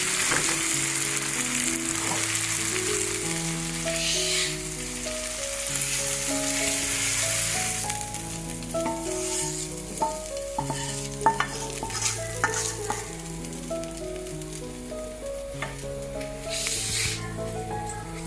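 Steady sizzling and frying of chicken and bitter gourd in a pan, loud at first and then settling, with melodic background music playing throughout.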